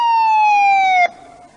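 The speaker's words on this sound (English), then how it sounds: "A police car came to the telephone box." Police car siren, heard as a single loud, steady wail that drifts slightly downward and cuts off abruptly after about a second, leaving a faint low tail.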